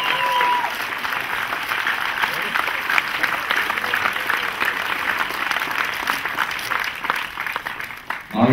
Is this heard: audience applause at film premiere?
yes